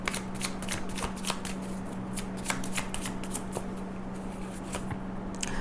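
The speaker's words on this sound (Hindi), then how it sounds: "Let's clarify the cards." Tarot cards are shuffled close up in a steady run of crisp riffling bursts over a faint constant hum, with no talk.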